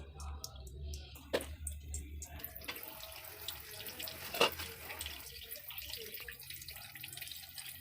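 Water is poured into a pot of restaurant-style butter chicken, giving a faint, steady trickle and splash against quiet kitchen background noise.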